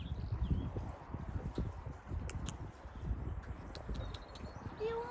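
A young horse's hooves clop in an irregular clatter at close range beside a narrowboat, with faint chirps in the background and no talking.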